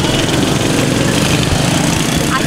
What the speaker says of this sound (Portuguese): Menino gosta de andar de moto aqui.